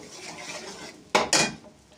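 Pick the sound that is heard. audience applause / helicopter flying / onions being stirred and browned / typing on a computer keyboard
onions being stirred and browned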